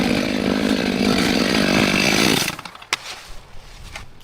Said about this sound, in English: With the power of the chainsaw, everything becomes clean and decisive.